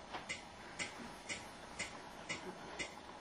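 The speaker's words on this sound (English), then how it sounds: "What's that ticking noise?" A clock ticks steadily, six or seven evenly spaced crisp clicks about half a second apart, moderately close with faint background hiss.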